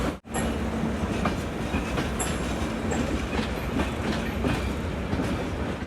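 An express train passes through Kiul Junction in Bihar with loud, close rumbling and rhythmic clickety-clack of wheels over rail joints, holding steady throughout with faint squeals and no voices.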